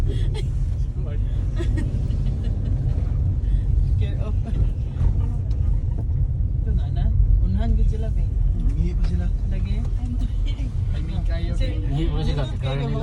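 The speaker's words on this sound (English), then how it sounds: "here's our other coach" A tour coach bus on the road to Milford Sound in New Zealand rumbles steadily nearby with low engine drone throughout, while people talk over it.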